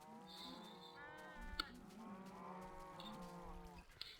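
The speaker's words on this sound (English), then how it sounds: "as you can hear, we've got a couple of baby cattle in there" Several cattle in a video game, including baby cattle, moo continuously in overlapping low, drawn-out calls, fairly close, with a couple of short clicks among them.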